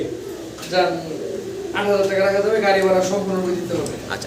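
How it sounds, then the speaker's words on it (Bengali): Danish pigeons for sale coo in low, throaty, repeated calls close by at a bird market, while people talk over and between the cooing. "এই তিন জোড়া ড্যানিশ কবুতর"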